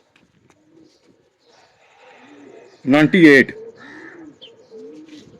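A Teddy king pigeon, from a line-bred breeding pair, gives a loud, close throaty coo in two quick pulses, with softer chirps and a voice talking around it.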